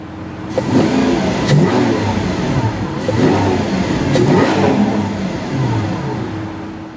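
A 2015 Lamborghini Aventador LP720-4 engine revs repeatedly with deep rasping exhaust through opened bypass valves, surging and falling several times, loud and close.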